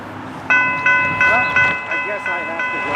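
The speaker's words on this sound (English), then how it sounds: "we got another metro coming." A Chicago metro train pulls in with steady high whining tones over a rhythmic clatter of wheels, loud and near.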